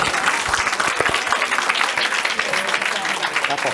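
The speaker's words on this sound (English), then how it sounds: "let's give Sister Rainey a round of applause" An audience applauds steadily and loudly for a performer at a live event, a full, dense clapping that holds throughout, with voices mixed in.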